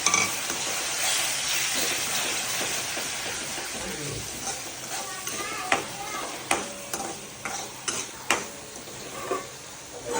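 Tomatoes go into Kutchi dabeli masala frying in a pan, making a steady hiss and sizzle, followed by a series of sharp spoon taps and scrapes against the pan while someone speaks.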